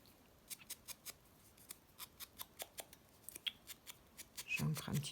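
Scissors cut through paper in a quick series of about fifteen crisp snips, close and quiet, speeding up toward the end, while someone speaks softly in the background.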